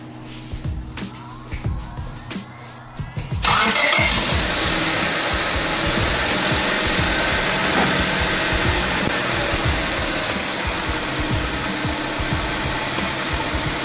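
A car engine cranks and catches, then settles into a loud, steady idle with a rough knocking rhythm that runs unbroken for about ten seconds, heard up close with no talk over it.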